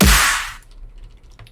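A single sharp, punchy percussive hit with a bright noisy burst that decays quickly, layered snare and Vengeance clap samples, followed by quiet.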